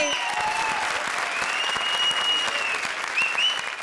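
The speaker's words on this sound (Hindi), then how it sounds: "जोरदार तालियां" Loud, dense audience applause fills a studio comedy show on Comedy Circus, sustained steadily throughout with a faint voice in the background.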